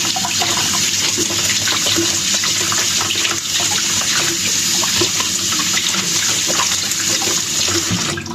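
Water runs loudly and steadily from a tap, splashing over washing machine parts being rinsed in a sink, a continuous close rush with no pauses.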